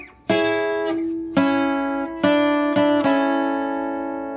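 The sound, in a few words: guitar playing a short melody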